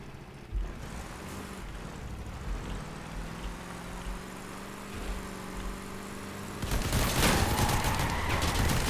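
Vehicle-mounted guns fire in the vehicular combat game Crossout, with rattling bursts over a droning engine hum that swell into heavy, dense gunfire toward the end.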